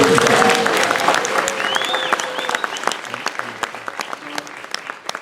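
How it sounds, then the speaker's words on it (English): A studio audience breaks into loud, sustained applause, a dense wash of clapping that gradually thins into scattered, distinct claps toward the end, with faint crowd voices at the start. "Let's hear some thunderous applause."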